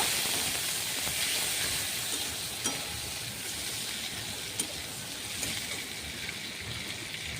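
Crushed chopped onion and green chillies frying in a pan, a steady hissing sizzle held at an even level throughout, with a couple of faint clinks and no talking.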